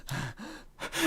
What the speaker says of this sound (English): The heavy breathing.